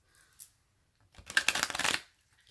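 A short riffle of tarot cards, then a longer, fuller shuffle lasting about a second, crisp and close with quiet pauses around it.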